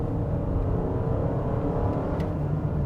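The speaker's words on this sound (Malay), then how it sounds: "kita tekan minyak habis" A 2020 Toyota RAV4 SUV accelerating at full throttle on the road, heard from inside as a steady low engine drone and road rumble that holds evenly throughout, with no talk over it.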